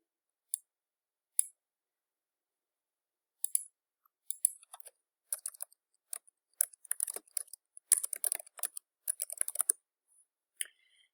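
Clicks at a computer while switching on a screen zoom feature: two isolated clicks, then a dense, irregular run of quick, light clicks, fairly quiet and close, with no talking.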